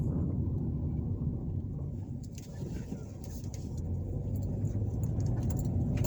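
Constant low road rumble and engine drone of a car driving through the streets of Greenville, Alabama, with faint interior rattles and a jingle of keys, steady and close inside the cabin.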